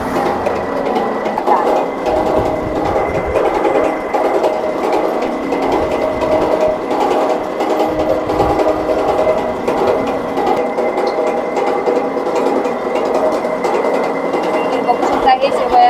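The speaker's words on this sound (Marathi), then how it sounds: "हे पीठ झालं तयार आता ह्या मशीन मध्ये टाकायला लागले" A shevaya vermicelli-making machine extrudes dough with a steady, loud mechanical drone and rattle that runs without a break, while voices talk underneath.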